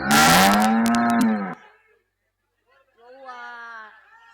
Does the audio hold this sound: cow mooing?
yes